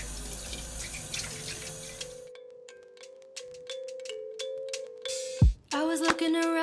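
Tap water runs into a kitchen sink while dishes are washed, a steady stream that stops partway, followed by scattered clinks, knocks and dish clatter, then a brief burst of water and music.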